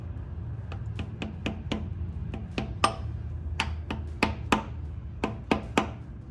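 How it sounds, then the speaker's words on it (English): Sharp, separate taps of a rubber mallet seating a ZF5 transmission part on an OBS Ford swap, about eighteen knocks in small uneven bursts, close and fairly loud in a quiet garage. "A couple little taps with a rubber mallet, get it started."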